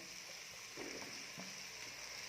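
Masala with chopped tomato sautéing in a pan for masala rice, a faint, steady sizzle with soft stirring scrapes and no voices.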